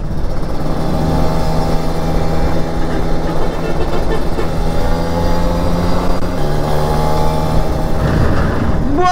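A big truck speeds past on a busy highway, its heavy engine drone loud and continuous throughout, with a noticeable shift in pitch partway as it goes by; no talk is heard.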